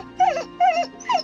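A dog whimpers three times in short, high, whining cries, close and clear with brief pauses between them.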